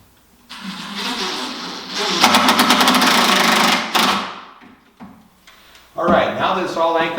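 A power drill driving screws into a stair landing post deck mount, loud close whirring bursts that ramp up, stop, then start again.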